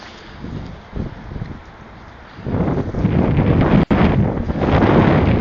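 Wind buffets the microphone while riding an eBike on a commute, rumbling low and uneven, softer at first and then swelling into a louder, sustained roar.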